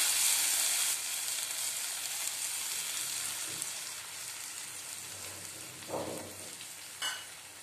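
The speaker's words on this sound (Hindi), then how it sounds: "अब मैं इसमें डाल दूंगी अंडे को।" A pan of cooked tomato with eggs going in for egg bhurji gives a continuous soft sizzle, with a couple of short, louder bursts of hiss near the end.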